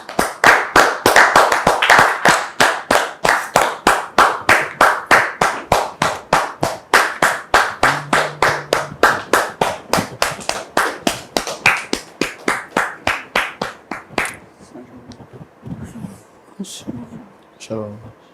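A crowd claps in a fast, steady rhythm for about fourteen seconds, loud and close, then the clapping fades into scattered claps and murmurs.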